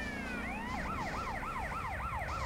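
Ambulance siren from GTA San Andreas, a wailing, fast up-and-down electronic siren cycling steadily at moderate volume, with a rapid wavering shift partway in and engine rumble underneath.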